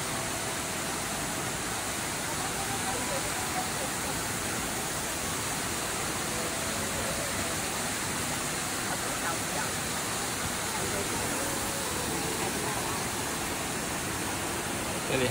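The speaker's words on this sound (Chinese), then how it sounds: "森林瀑布" Neidong forest waterfall in Wulai pours with a constant, dense roar of falling water that stays even and unbroken throughout.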